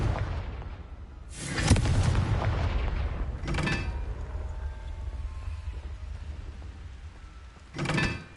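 The Confringo blasting spell in Hogwarts Legacy, a few booming explosive blasts spaced seconds apart, loud and close, with rumbling tails over a dim ambient backdrop and no talk.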